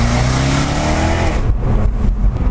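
Jaguar F-Type convertible with the top down, its exhaust roaring loud and close during acceleration, a rising engine note that drops off into lower rumbling bursts.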